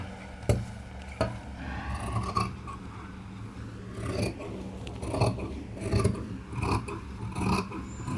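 Scissors snip through fabric while a Gopi-style blouse sleeve is being cut, giving a series of short rasping cuts with small pauses between them, close and fairly quiet with no talking.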